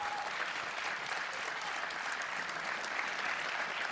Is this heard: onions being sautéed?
no